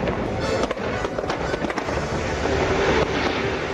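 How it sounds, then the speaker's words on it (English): Fireworks spectacular bursting over the lagoon at a Disney resort, a steady barrage of loud crackling pops and booms that runs without a break. "there's a fireworks spectacular over the lagoon called Illuminations"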